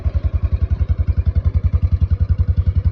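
A vintage BMW R26 motorcycle idles steadily up close, its engine thudding in an even, rapid pulse throughout with no talking over it.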